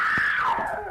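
A woman screams in an old time radio detective drama, one loud, close, sustained cry that slides downward in pitch and then fades.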